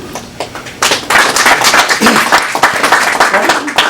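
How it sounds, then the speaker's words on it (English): An audience at a scholarship fund event in Toronto breaks into applause, a dense, close patter of many hands clapping that swells and holds steady. "I just want to start with applauding Galila."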